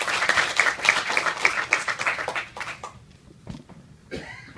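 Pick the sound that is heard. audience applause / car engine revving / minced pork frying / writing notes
audience applause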